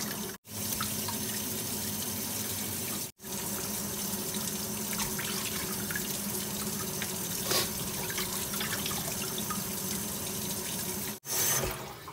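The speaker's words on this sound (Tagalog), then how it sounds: "hugasan pa natin ng asin" Raw milkfish (bangus) being rinsed with water and salt for fermented fish, a steady running tap and splashing water in a sink, continuous and close, with a few brief breaks in the flow.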